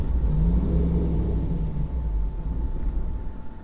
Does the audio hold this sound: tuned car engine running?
yes